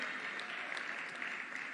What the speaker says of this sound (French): Est-ce qu'on peut applaudir pendant que Madame Pamela regagne sa place